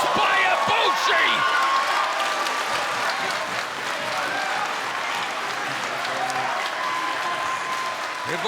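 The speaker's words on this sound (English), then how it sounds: "The crowd electric after that German suplex" A wrestling arena crowd roars with loud, sustained cheering and applause after a German suplex in a cruiserweight tournament match, with a commentator talking over the noise.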